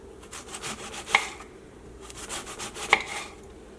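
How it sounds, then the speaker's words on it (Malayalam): A knife slices cabbage thinly on a board, giving soft scraping, chopping strokes in two quick bursts with a sharp tap at the end of each, close and fairly quiet. "ഞാൻ സാധാരണ ക്യാബേജ് ഇങ്ങനെയാട്ടോ കട്ട് ചെയ്യാറ്"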